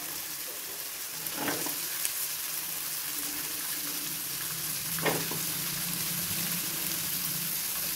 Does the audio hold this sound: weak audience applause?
no